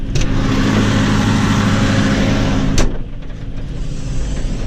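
A loud tractor engine drones close by while preparing a large beet field, then cuts off sharply with a click, leaving a quieter low rumble of another tractor engine in the distance.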